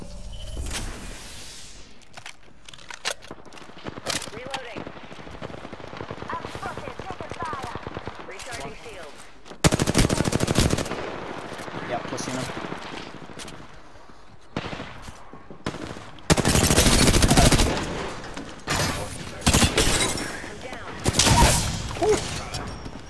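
Bursts of automatic gunfire and single shots ring out during an Apex Legends firefight, loud and close in rapid clusters with pauses between, while a player talks over the action.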